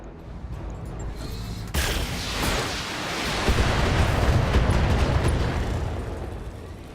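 Explosions tear apart a vehicle in the mech combat game Battletech: a sudden loud blast opens into a long, dense roar of rumbling detonation that swells and slowly fades, with no talk over it.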